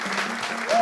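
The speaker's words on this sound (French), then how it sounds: "je veux qu'on fasse un tonnerre d'applaudissements pour les vrais professionnels" A studio audience on a live Togolese TV talent show finale applauds the professionals, giving dense, continuous clapping that swells slightly at the end over a low background tone.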